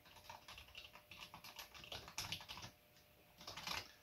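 Quick bursts of keystrokes come from a cheap dollar-store gaming keyboard with mushy keys, a close soft clatter of irregular taps with a brief pause before a final flurry.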